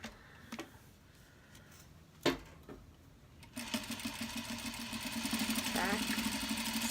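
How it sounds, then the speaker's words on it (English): A sewing machine stitches a clutch wallet, starting after a few clicks and taps with a fast, steady mechanical whirr that builds and runs to the end, close and fairly loud. "I'm still not fully used to this sewing machine. It goes pretty fast."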